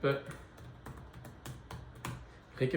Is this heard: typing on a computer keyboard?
yes